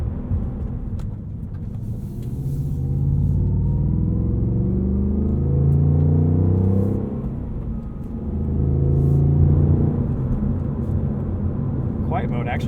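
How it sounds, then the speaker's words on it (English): A 2022 Ford Mustang Mach 1 with a manual gearbox and valved exhaust set to a toned-down, quiet mode gives a steady low rumble that swells and eases while cruising, mostly under someone talking. "you can really tone this exhaust down if you want to"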